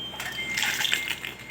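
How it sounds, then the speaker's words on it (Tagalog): Plastic toys poured out onto a floor make a brief clattering rush of small pieces tumbling and knocking together, close and moderately loud, over about a second. "Buhos po natin dito sa harapan natin."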